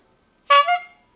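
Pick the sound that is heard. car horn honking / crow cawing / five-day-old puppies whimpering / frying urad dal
car horn honking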